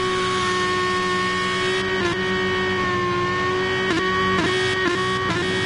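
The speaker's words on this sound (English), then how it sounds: "he's just revving the nuts out of that V12 thing" A V12 GT3 race car in a racing game league at Catalunya holds a loud, steady high-pitched engine drone, with a few brief dips that sound like gear shifts, and no talk over it.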